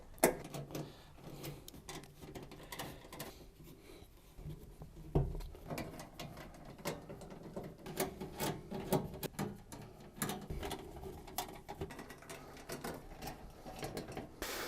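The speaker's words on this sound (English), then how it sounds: "you need to remove the lower rear panel from the back of the washing machine by undoing all the screws that hold it in place using your Torx T20 screwdriver" Torx T20 screws are undone from the lower rear panel of a Beko washing machine, giving repeated faint clicks, scrapes and ticks from the screwdriver and metal over a steady room hiss.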